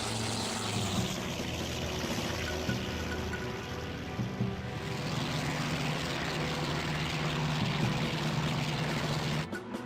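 Simulated propeller fighter engine in the IL-2 1946 flight game, a Ki-100 over Iwo Jima, holding a steady loud drone that builds slightly as the throttle opens, continuous and close throughout.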